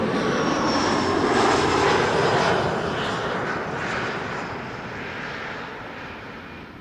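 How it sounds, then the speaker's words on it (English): A KLM airliner arriving from Lyon and landing at Amsterdam Schiphol Airport: a broad, loud roar of jet engines that swells and then slowly fades as the plane passes, heard alone without talk. "KLM 1428, arriving from Lyon, is going to be landing here next."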